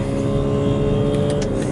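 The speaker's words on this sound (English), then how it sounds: "We'll test the pickup of the car a bit." A BMW X5 xDrive45e plug-in hybrid SUV pulling away in hybrid mode, heard from inside as a steady, loud engine drone and road rumble that holds through the whole stretch.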